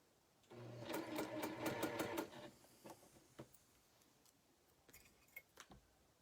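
A sewing machine stitches a pottery star quilt in a fast rattling burst of about two seconds, then stops, leaving a few scattered clicks and taps.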